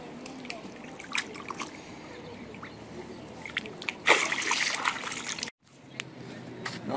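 A carp of about 3 kg goes back into the water with a loud splash and slosh at close range, after quieter handling noises and trickling water.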